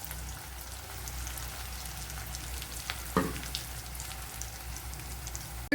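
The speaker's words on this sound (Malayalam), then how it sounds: "വെളുത്തുള്ളി ഇഞ്ചിയൊക്കെ ഒന്ന് വഴണ്ട് വന്നിട്ടുണ്ട്" Garlic and ginger fry in a pan with a faint, steady sizzle and crackle, a single stir or tap clattering once near the middle, with no one talking.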